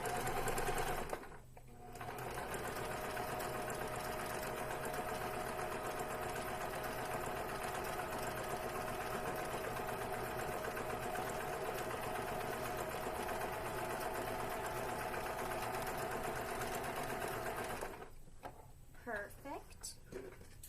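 A sewing machine runs steadily, stitching fabric pieces together for a face mask, its continuous whirring hum lasting most of the stretch before stopping near the end, with brief pauses and handling noise at the edges.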